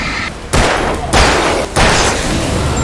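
Gunfire in the video game Alan Wake, with three loud, broad blasts about half a second apart, each sustained and roaring rather than sharp, and no talk over them.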